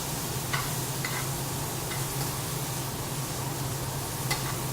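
A sausage and vegetable mixture sautés in a pan, a steady close sizzle with a few light clicks of stirring and no talk.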